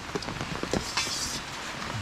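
Rain falls outdoors in Jamaica during outdoor cooking, a steady close patter of drops with occasional louder taps on a surface and no talking.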